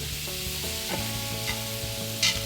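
Butter melting in a very hot pan with mushrooms, a constant bright sizzle with a low hum underneath and one short spatter near the end, close up and alone.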